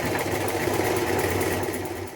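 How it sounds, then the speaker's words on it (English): A sewing machine runs steadily, stitching buttonholes into denim pocket flaps for a jean jacket. It makes a close, continuous rapid mechanical whir with no pauses. "Now we're creating our buttonholes in both our pocket flaps."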